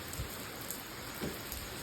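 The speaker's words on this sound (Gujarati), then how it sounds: "ફૂલ વરસાદ આવે છે" Steady, dense rainfall hisses continuously, with a few louder drops or thumps breaking through now and then.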